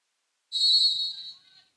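A referee's whistle at a college volleyball match between Toccoa Falls and Trinity College, a single sharp, shrill blast of about a second that tails off, heard alone.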